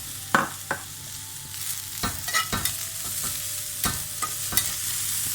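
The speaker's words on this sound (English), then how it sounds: "Next, we're going to add a small red pepper that I've chopped up as well." Chopped small red pepper going into a pan of vegetables for a vegan couscous salad and being stirred, with sharp scraping clicks of the spoon over a steady low sizzle, close and alone.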